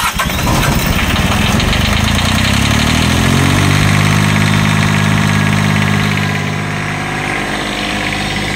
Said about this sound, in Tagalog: So try natin paandarin at tingnan natin yung kanyang charging.